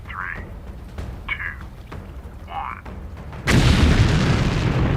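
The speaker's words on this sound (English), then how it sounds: "We just saw this big explosion." A demolition blast destroys an oil platform at sea a few miles away. A few short chirping tones come first, then a sudden heavy boom breaks in and keeps rumbling loudly to the end.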